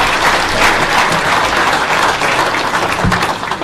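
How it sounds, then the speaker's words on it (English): Sustained applause from an audience at a volunteer emergency services information session, loud and dense clapping that holds steady for several seconds before easing slightly at the end. "So one more round of applause for the three guys up the front here"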